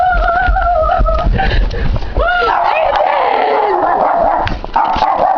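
Dogs barking and whimpering amid a noisy household scene, with people talking and shouting over the animals throughout.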